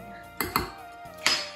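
A metal teaspoon clinking against a baking soda container while measuring for cookie dough: three short, bright taps, close and fairly quiet, with no talking.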